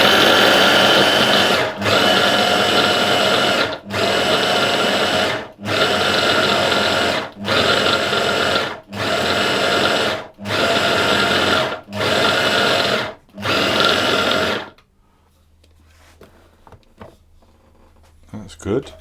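An electric mixer beats almond and oatmeal cookie dough in steady loud bursts of whirring, about eight runs with short pauses between, then stops and leaves quiet kitchen handling.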